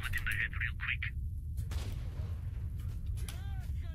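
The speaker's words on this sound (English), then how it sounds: "This is sniper fire." Sniper rifle shots ring out in S.T.A.L.K.E.R. Shadow of Chernobyl, a few sharp distant cracks over a low rumbling ambience, with brief chirping sounds early on.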